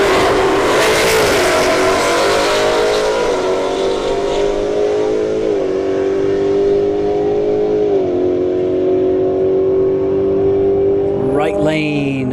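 A Ford Mustang makes a drag strip run at a street heat test-and-tune night, its engine loud and close, holding a steady drone that climbs through a series of gear changes. A brief announcer voice breaks in near the end.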